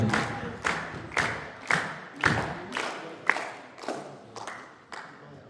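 A church congregation breaks into repeated bursts of clapping and cheering, about eight swelling waves of applause that rise and fade in steady succession at moderate distance.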